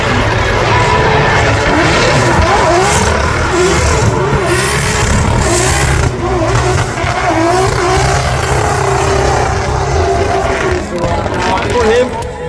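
Naoki Nakamura's drift car accelerates at a Drift Masters qualifying round in Riga, its engine revving loud and steady throughout the run while a commentator talks over it.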